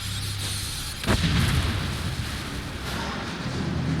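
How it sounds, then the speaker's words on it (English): A delayed explosion in the video game Mass Effect lands as one sudden boom a second in, then a rumbling tail over a constant background hiss. "That was delayed explosion"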